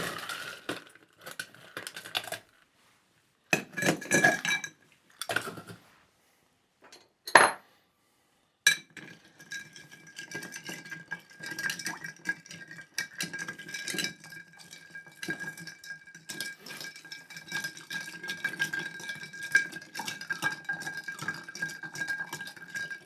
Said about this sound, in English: We're going to stir this to chill it down.